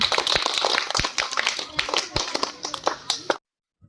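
Schoolchildren at a Zila Parishad school in Koregaon Rangi clap after a round of a fun classroom game, a dense burst of close hand claps lasting a few seconds and then stopping abruptly.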